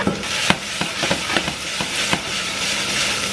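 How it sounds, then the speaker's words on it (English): Chopped carrot and onion shallow-fry over high heat in a pan, a steady bright sizzle punctuated by sharp, irregular scrapes and taps as the vegetables are stirred, with no talk. "it's gonna be like a nice shallow fry for the veggies"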